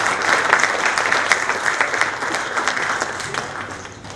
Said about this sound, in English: can we have a huge round of applause for Mr. Jatin Trivedi